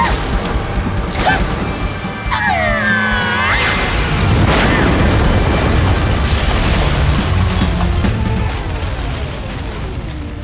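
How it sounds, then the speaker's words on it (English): Death lasers fire and explosions boom throughout an animated fight, a loud dense barrage of zapping sweeps, bursts and crashes running continuously with no talking over it. "Fire death lasers!"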